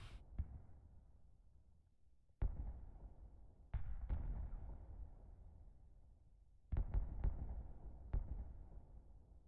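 Civil War gunfire in the strategy game Grand Tactician: scattered, distant-sounding musket or cannon reports, a handful of sharp cracks each trailing off into rumbling decay, spaced irregularly over a quiet background.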